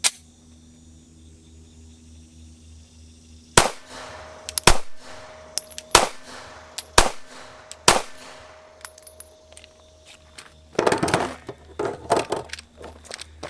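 Five sharp pistol shots from a PSA Dagger with a sniper green slide, fed from Glock magazines, crack out at an uneven pace, each with a short ringing tail, and a clatter of further noise follows.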